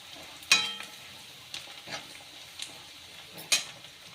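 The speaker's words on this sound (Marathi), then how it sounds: "मी आता हे काढलेलं तिखट टाकते आहे मस्त लालू द्यायचं" Stirring and frying of brinjal masala as red chili powder goes into the pan, with soft sizzling and a few scraping clinks of a spoon against the metal, close and steady.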